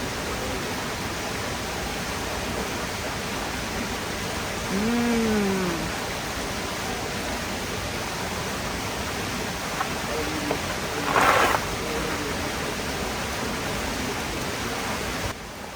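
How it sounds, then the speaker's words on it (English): Steady bubbling and flowing water from the Medici fountain in Paris fills the scene as an even broadband wash, with a brief louder splash near the end and faint voices passing over it. "Enjoy while we enjoy the beautiful sounds of the bubbling and flowing Medici fountain."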